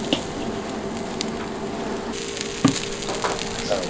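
Food sears in a hot pan at a party, giving a steady close sizzle with a brief scrape or knock partway through and no talking.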